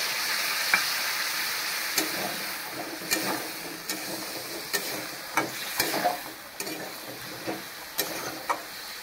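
Vegetables with potato and spices frying in a pan with a little water, a steady close sizzle broken by regular clinks and scrapes of a stirring spoon against the pan, no talking.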